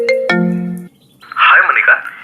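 A phone outside an office rings with a short, loud electronic tone that holds for under a second and then cuts off, followed by a burst of rustling noise.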